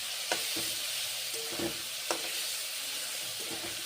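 Whole cumin and green chilli frying in hot oil, a steady bright sizzle broken by several short scrapes and knocks of a spatula stirring the pan, close and fairly quiet.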